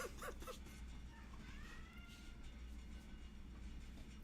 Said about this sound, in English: Kitty is meowing really loud